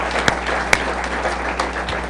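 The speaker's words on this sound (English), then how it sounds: "Another round of applause." A crowd applauds with dense, continuous clapping, a few sharper claps standing out now and then.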